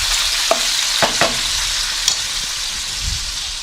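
Food browning in a pan being stirred, a constant frying hiss broken by a few scraping clicks of the utensil against the pan.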